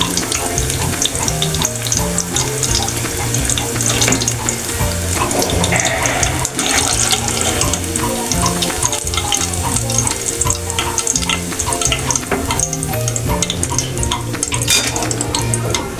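Potato pakoras deep frying in hot oil, a loud close bubbling sizzle with crackling pops and occasional clinks of a utensil, continuous and busy with no talking.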